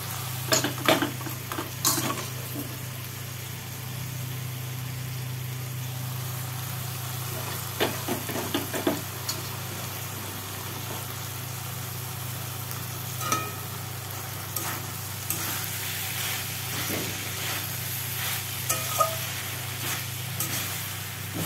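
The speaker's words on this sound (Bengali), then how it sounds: "এবার এটাকে অনেকক্ষণ ধরে আমি কষাবো।" Banana flower sautéing in a pan gives a steady low sizzle beneath repeated scraping stirs of a spatula against metal, with occasional sharper clinks, continuous and close for the whole stretch.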